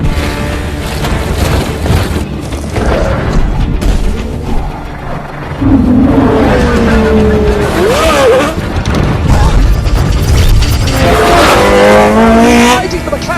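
A McLaren Formula 1 race car brakes hard on track, its engine note dropping and swooping through downshifts as it twitches at the limit; loud and close, with other race cars roaring nearby and voices talking over it.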